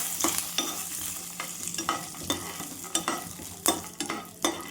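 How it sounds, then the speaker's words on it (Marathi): Almonds and cashews roast in a spoonful of ghee in a pan, with a soft steady sizzle and a spoon scraping and stirring at irregular intervals. No one speaks. "बदाम आणि काजू थोडे तूप टाकून, 1 चम्मच तूप टाकून भाजून घेऊया"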